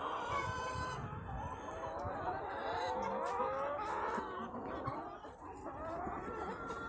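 Five-month-old pullet hens cluck and call in their paddock on a farm, a steady busy chorus of overlapping clucks at moderate distance with no talk.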